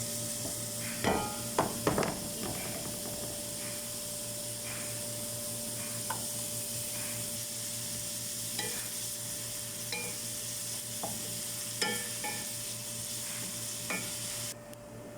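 Onion sautés in a hot pan with a constant sizzle, and a utensil scrapes and taps against the pan now and then, loudest in a cluster early on. Nobody talks.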